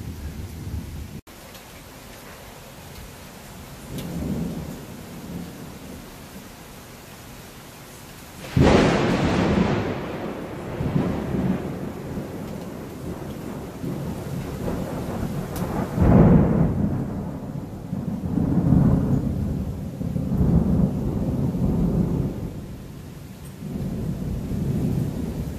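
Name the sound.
heavy rain with thunder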